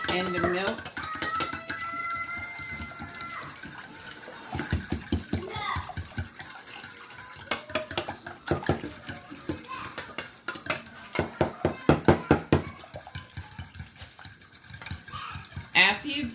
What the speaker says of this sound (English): Now I want to begin to beat the eggs and the milk.